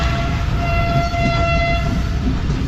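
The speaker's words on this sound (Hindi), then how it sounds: "ट्रेन इस वक्त सिर्फ 35 मिनट लेट अप्रोच बना रही है नवाबशाह रेलवे स्टेशन पर" The Shalimar Express pulls into Nawabshah railway station, its horn holding a steady tone over a loud, continuous rumble of the train close by.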